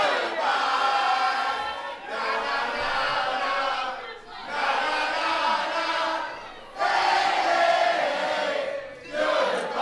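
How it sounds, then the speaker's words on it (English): A wrestling crowd chants loudly in a rhythmic sing-song, phrases repeating in waves with brief dips between them. "Very sing-song from the crowd."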